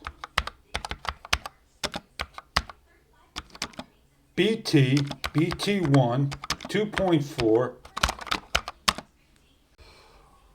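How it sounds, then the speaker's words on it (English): Rapid clicking of typing on an ultra-slim mechanical gaming keyboard in short bursts, close up, pausing while a person talks midway, then resuming. "As you hear me typing"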